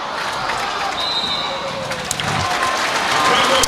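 Basketball crowd noise at an NBL game between the Nuggets and Hawks, a steady broad roar of cheering and clapping that rises toward the end, with a voice talking over it.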